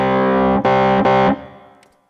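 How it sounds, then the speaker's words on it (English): A Korg SV-1 stage piano plays three loud, sustained electric piano chords with gritty tube overdrive distortion, the last chord fading out over a second. "this allows us to actually overdrive the tube and get a real, you know, warm distortion."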